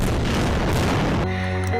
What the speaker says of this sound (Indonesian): Seketika tembakan meriam dari prajurit Aceh seolah tanpa henti menghujani benteng pertahanan Kesultanan